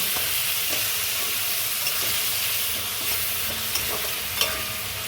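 Onion paste and spices fry in a pan while being stirred for a Bengali prawn and banana-flower dish, giving a steady close sizzle with scattered scraping clicks of the spoon and no talking.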